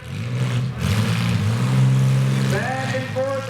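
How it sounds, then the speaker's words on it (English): Engines of compact demolition derby cars revving hard in an arena, a sustained low roar that swells and dips, with an announcer talking over it. "Those motors are working hard and smoking."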